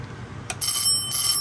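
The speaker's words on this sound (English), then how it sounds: "we're sending 6 volts to this little bell" A small electric bell on an annunciator demo board, fed six volts, rings in two bright metallic bursts after a brief tap, close and loud with no talk.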